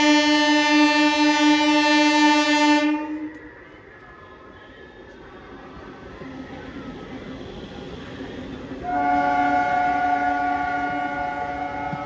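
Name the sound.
express train arriving at Bihiya station platform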